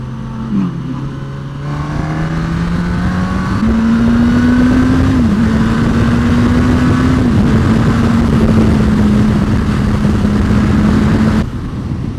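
A Suzuki GSX-S1000F sport motorcycle engine revs up and shifts through several gears, its pitch climbing and dropping at each change, loud and sustained for about ten seconds.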